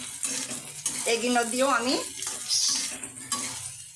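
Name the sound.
ginger, garlic, chili and onion frying in mustard oil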